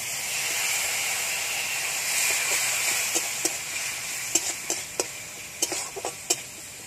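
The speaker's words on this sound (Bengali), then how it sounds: "মশলার সঙ্গে দাঁড়াগুলো ভেজে নেব" Crab claws fry in a spice paste of turmeric and chili powder, a soft continuous sizzle and hiss joined later by a series of sharp taps and clinks from a spatula against the pan.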